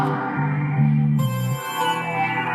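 A bright synth lead plays a short melody over low sustained notes, shifting pitch step by step, loud and close.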